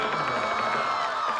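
A studio audience at a Chinese variety show cheering and clapping, a dense continuous crowd roar with shouts, steady and loud throughout the brief moment.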